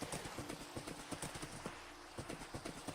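Horse hooves clop in an irregular, moderately loud series of thuds in a Minecraft game world, with a faint steady tone running underneath and a brief quieter gap midway.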